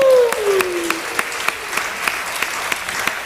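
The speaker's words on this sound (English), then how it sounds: "let's give one more time a big round of applause for both of them." An audience breaks into applause at a live show, the clapping dense and steady for a few seconds.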